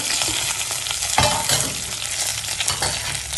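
Fish sizzles loudly and steadily in hot oil in a pan for a Jaffna-style fish curry, with occasional stirring scrapes and clatter and no talking.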